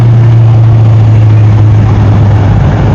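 A Kawasaki Z1000R motorcycle engine hums steadily and loudly while riding, a constant low drone with wind rush and no talk.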